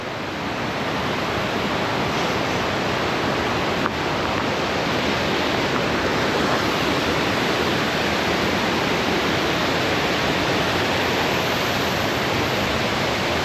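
A waterfall roars in a dense, constant rush of falling water, loud and unchanging throughout with no voices.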